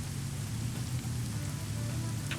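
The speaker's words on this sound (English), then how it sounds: "Rain's gonna be covering the footsteps." Rain falling in an online multiplayer shooter game, a steady, dense hiss of rainfall with a low rumbling undertone, constant and fairly loud throughout, with no talking.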